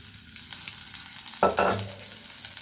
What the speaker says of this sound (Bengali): আর দিয়ে দিচ্ছি সরিষার তেল